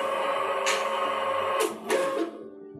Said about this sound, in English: Now you can see the printer is calibrating the labels.